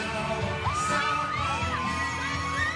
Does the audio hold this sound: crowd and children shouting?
yes